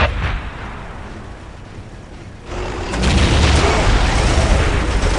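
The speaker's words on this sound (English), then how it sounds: "Whirlwind artillery tank here." Artillery fire from a Whirlwind tank in the Warhammer 40K: Dawn of War strategy game, a loud sustained barrage of booming shots that swells in after a quieter stretch and rumbles on steadily.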